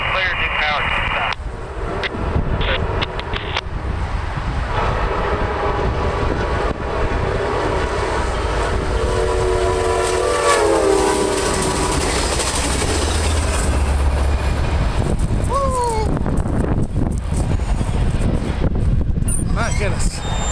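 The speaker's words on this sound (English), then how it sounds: "And that was Amtrak 73 hauling ash southbound past Duke Power in our Southern District Mainline" Amtrak passenger train 73, led by locomotive 1893, passes southbound on the Norfolk Southern Charlotte main line at Harrisburg, North Carolina, with a loud, steady rumble and a horn blast. A voice speaks over the sound.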